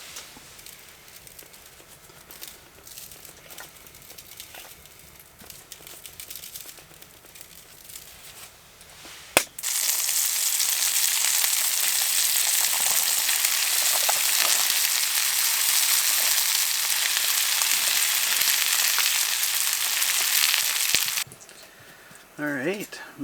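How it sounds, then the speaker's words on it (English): Rehydrated dehydrated hash browns hit a hot pan at a snowy hot-tent camp with a sudden loud burst of sizzling. The frying holds steady and close for about ten seconds, then cuts off, with quiet handling noises before and after. "And then you can fry them up."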